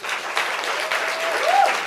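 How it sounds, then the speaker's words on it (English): An audience applauds for Kerry at a human rights livestream event, steady dense clapping filling the whole stretch with a faint voice surfacing briefly near the end. "Everyone, please, a round of applause to Kerry."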